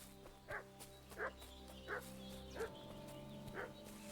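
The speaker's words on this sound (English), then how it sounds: "Dog's barking." A dog in the game Kingdom Come: Deliverance 2 barks five times at a steady interval, single sharp woofs a little distant over a low ambient hum, with no talk over them.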